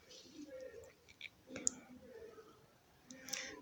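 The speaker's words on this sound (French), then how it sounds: "Nous allons cliquer maintenant sur suivant." Computer mouse clicks during a Windows installation, a few short, light clicks spaced apart over soft background noise, close and faint.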